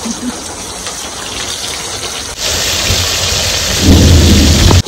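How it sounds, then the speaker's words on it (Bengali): Steady heavy rain pours down with a constant hiss, and low rumbling thunder swells in the background, growing louder near the end. "বাড়িতে আসার পর থেকে প্রতিদিনই বৃষ্টি হইতেছে"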